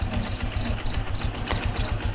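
A Yamaha MX motorcycle engine idles steadily after carburetor tuning, with a close, even, rapid pulsing putter and no speech over it.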